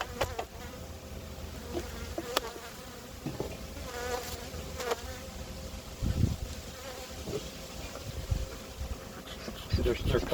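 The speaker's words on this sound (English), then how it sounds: "So the bees that we took out are in here." Honey bees buzzing during a hive inspection, a low, restless hum with fluctuating swells and occasional louder passes near the microphone, plus faint handling knocks, with some muffled voice in the background.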